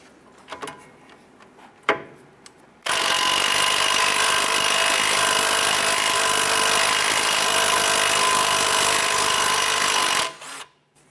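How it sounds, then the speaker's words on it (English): A loud, steady power-tool whir, likely an impact wrench or drill driving a 14mm socket to loosen the tie rod nut on a 2007–2012 Nissan Versa, runs for about seven seconds after a few faint clicks and knocks. "Using a 14mm socket, we're going to loosen and remove the nut"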